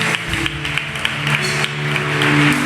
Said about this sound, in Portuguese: Você pode aplaudir a Ele bem forte.